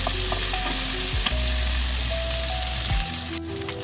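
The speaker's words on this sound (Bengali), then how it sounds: "আলুগুলো আমি ভাজছি" Cut potatoes and a large onion fry in hot oil in a pan, giving a steady, even sizzle throughout with occasional small pops and no talking.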